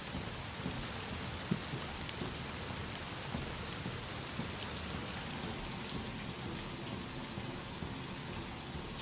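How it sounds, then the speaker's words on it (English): Heavy rain in a video game pours steadily and evenly, with a few faint thumps scattered through the downpour. "Very heavy rain."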